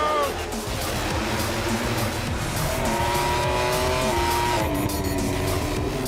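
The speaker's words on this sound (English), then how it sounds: "It's the opening MotoGP race of the year. MotoGP is go!" MotoGP racing motorcycles roar off the start at the opening race of the season in Qatar, a dense, loud wall of rising engine notes with climbing gear pitches, and a commentator talks over them.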